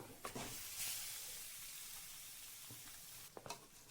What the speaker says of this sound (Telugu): ఈ ఉల్లిపాయ ముక్కలు వేగిన తర్వాత ఇందులోకి పక్కకు పెట్టుకున్న చికెన్ను వేసుకుందాం